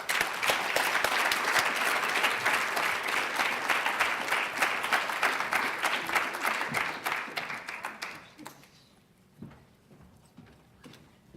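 An audience applauds to welcome a speaker to a campus lecture: dense, steady clapping from a full room lasts about eight seconds, then thins out to a few scattered claps before fading.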